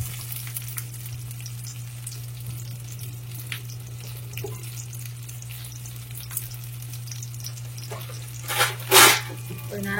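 Eggs fry in a covered pan with a steady low sizzle that runs throughout, and near the end a couple of louder clatters sound as the lid or pan is moved.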